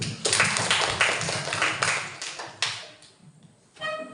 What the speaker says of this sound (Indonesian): tepuk tangan dulu untuk Sultan